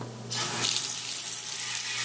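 Water runs steadily from a kitchen tap into a sink while burritos are made, a constant close splash that starts abruptly and holds without voices.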